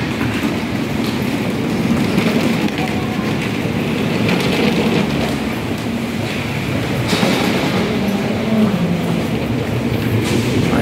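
One of the long Mid-Levels escalators in Hong Kong runs with a steady, loud mechanical rumble and hum. The drone stays even for the whole stretch, with no voices over it.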